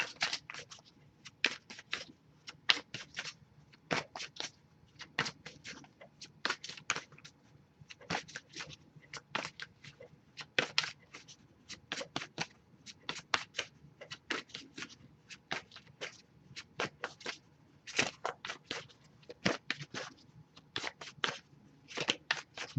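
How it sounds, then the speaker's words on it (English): Repeated soft riffling and slapping of cards being shuffled up close, in irregular bursts with short pauses, quiet and without talk. "I'll give it a few more shuffles as well before we move on."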